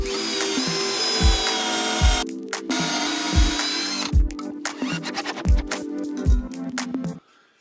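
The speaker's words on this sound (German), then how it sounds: "Und bohre dann hier, wo das Holz übereinander steht, zwei Schrauben rein." A power drill drives two screws into overlapping pieces of wood, with loud continuous whirring broken by repeated ratcheting clutch clicks and short pauses, close up and with no talking.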